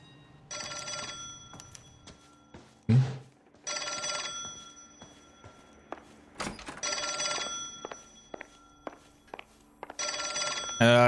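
A telephone rings in the L.A. Noire video game on PC, sounding four repeated bell bursts in a steady rhythm with a heavy thump between the first two.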